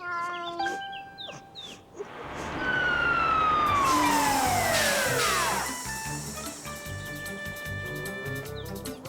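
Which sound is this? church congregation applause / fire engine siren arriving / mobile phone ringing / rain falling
fire engine siren arriving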